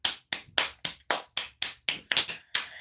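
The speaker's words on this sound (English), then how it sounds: "How about a round of applause for that?" A single person claps about ten times in a steady, close, crisp rhythm, each sharp clap separated by brief silence.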